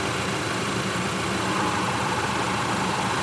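A 2020 Chevrolet Equinox engine idles at a steady, even drone, close and continuous throughout with no talking.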